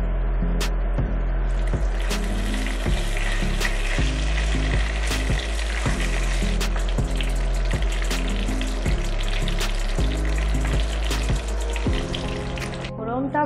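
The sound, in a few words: whole cumin and bay leaves frying in hot oil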